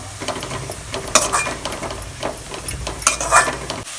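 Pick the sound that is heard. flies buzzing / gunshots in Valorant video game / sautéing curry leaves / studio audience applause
sautéing curry leaves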